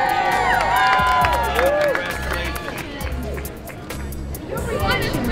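Outside the Today Show, a large crowd from Michigan and Ohio cheers and shouts for newly crowned Miss USA Rima Fakih, with whoops, clapping and babble of many voices close by.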